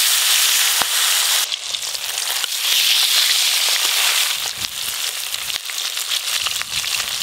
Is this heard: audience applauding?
no